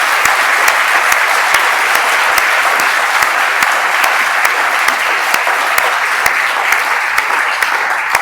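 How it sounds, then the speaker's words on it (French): A lecture audience claps loudly and steadily, dense applause with a few sharp individual claps standing out, continuing without pause throughout. "j'aimerais que vous les applaudissiez très très fort"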